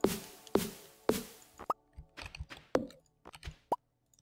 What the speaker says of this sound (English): I like that it makes a little pooping sound.